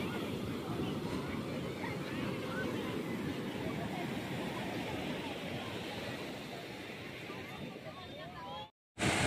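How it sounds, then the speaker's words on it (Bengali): Sea waves wash onto a beach in Odisha in a continuous surging roar, with wind buffeting the microphone, until a sudden brief cut at the end. "ভালোই ঢেউ।"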